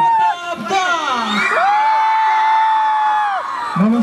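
A dense concert crowd in Kavre, waiting for a singer, cheers and yells, with one long sustained whoop rising above the roar and more shouts breaking out near the end, loud and close.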